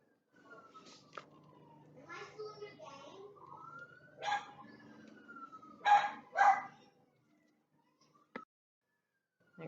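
Electronic wailing sirens rise and fall faintly in the background, like game audio from another room, with a few louder bursts and muffled voices.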